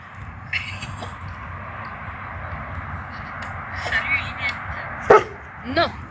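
A dog lets out a few short barks and yips near the end, over background noise and voices talking in French at a fishing pond.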